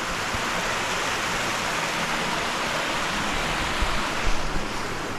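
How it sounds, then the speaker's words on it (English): Steady rushing water from a small creek waterfall in Arkansas fills the whole clip, a continuous broadband splash like a small cascade nearby, with no voices. "Look at this little waterfall right here."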